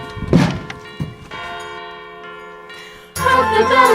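A bell rings during a stage performance of A Christmas Carol, giving a few bright, sustained tones after some thumps. Louder stage noise or music comes in at the end.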